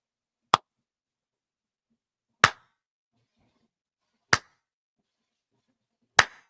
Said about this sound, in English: a slow clap